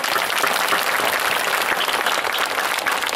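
Crowd at a Marathi kirtan applauding for Nalawade, a loud, dense burst of clapping from many hands, steady and close throughout with no talking over it.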